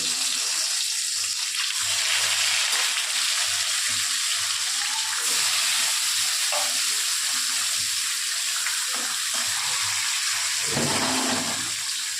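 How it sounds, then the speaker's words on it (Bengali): Bata fish frying in hot oil in a pan for a light Bengali curry with bitter gourd, giving a loud, steady hiss that runs unbroken throughout with no talking. "প্রথমে আমি মাছগুলোকে ভেজে নেব।"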